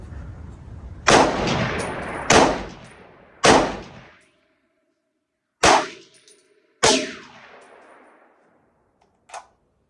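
A Springfield M1A rifle fires .308 rounds outdoors: five loud, sharp shots at irregular intervals of about one to two seconds, each with a short ringing decay, followed by a faint clink near the end.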